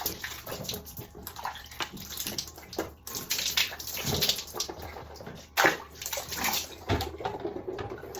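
Shower water runs and splashes in a bathroom, an irregular spray of rushing and pattering water with sloshing bursts and brief gaps, moderately close and without talk.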